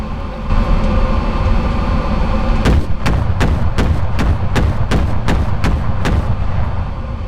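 Sherman tank in the WWII shooter Enlisted, damaged and burning out: a loud, steady roar of fire and rumble with a rapid train of about nine sharp cracking bursts, like ammunition cooking off, evenly spaced over several seconds.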